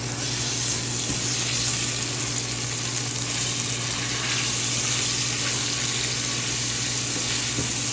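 Ground beef for chili frying in a pan, a steady broadband sizzle and hiss that runs continuously at fairly strong level, with no voices.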